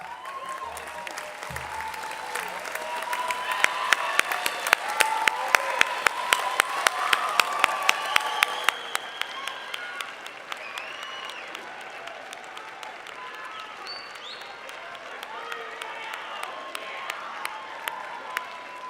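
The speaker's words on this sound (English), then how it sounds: "give all of those who have supported you a round of applause as well." Family and friends at a Unitec graduation ceremony give sustained applause, a broad, lively clatter that swells through the first half with some sharp individual claps, then thins and softens toward the end.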